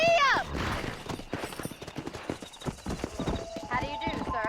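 Horse hooves pounding in a quick galloping rhythm in the Red Dead Redemption game, with a whinny and a shouted voice at the start and end.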